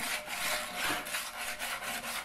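Sandpaper rubbed over a small carved spud made from a spring, giving a close, steady rasping scratch in quick back-and-forth strokes that pulse evenly throughout, with no voices.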